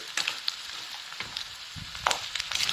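Salt and turmeric frying in hot oil, a continuous sizzle with scattered crackles and a few sharper pops, no voices.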